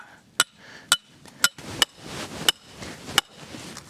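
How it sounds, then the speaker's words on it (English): A ground anchor is hammered into the ground with a ground rod driver, making about seven sharp metallic clanks at uneven intervals, close and clear, with dull thuds and rustling between the strikes. "we want to take our anchor, and it fits into the groove on our ground rod driver. Right there. And drive it into the ground."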